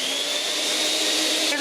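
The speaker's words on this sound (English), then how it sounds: "I'll turn the vacuum cleaner on." A vacuum cleaner whirs steadily and loudly throughout, with a high-pitched motor whine over a broad rushing hiss.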